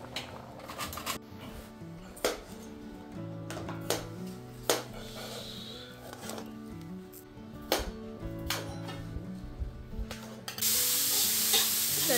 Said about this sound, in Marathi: डाळीला फोडणी देत आहे